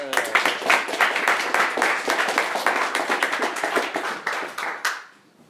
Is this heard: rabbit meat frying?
no